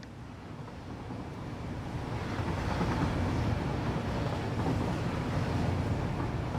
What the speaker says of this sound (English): Just try not to get hit by the train here.